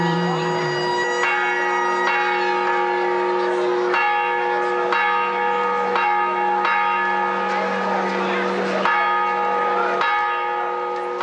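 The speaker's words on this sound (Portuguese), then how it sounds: "por que o sino está tocando assim?" Church bell of São Francisco church in a Minas Gerais town rung rapidly as an alarm, a loud sustained clangor of overlapping strikes with ringing overtones continuing throughout.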